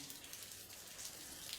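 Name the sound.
rain falling in a forest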